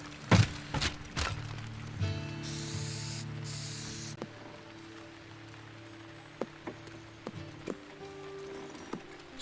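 In the video game Teardown, a spray can hisses in a couple of short, bright bursts, the longer one lasting about two seconds. Scattered game clicks and thuds sound around it over a low hum.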